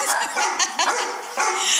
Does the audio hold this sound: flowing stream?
no